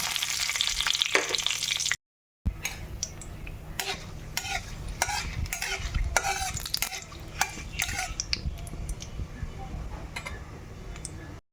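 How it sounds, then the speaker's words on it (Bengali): Black cumin seeds and bay leaves drop into hot oil for a tempering before hilsa fish curry, a close crackling sizzle with stirring clinks and scrapes, interrupted by a short cut before the frying continues. "তেলটা গরম হয়ে গেছে এবার আমি ফোড়নটা দিয়ে দিচ্ছি"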